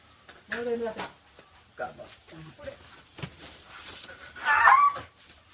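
A dog whimpers and yips in short, uneven bursts, close by, with a louder whine near the end; faint voices may be mixed in.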